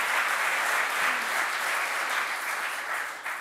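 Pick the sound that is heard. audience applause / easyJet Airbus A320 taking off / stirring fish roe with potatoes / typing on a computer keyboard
audience applause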